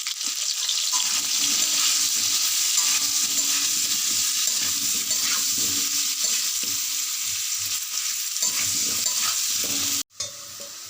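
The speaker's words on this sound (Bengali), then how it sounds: "আলুটা প্রথমে একটু লাল লাল করে ভেজে নেব" Potatoes frying with salt and turmeric in a pan, a continuous close sizzle with occasional stirring scrapes that runs for about ten seconds before cutting off abruptly.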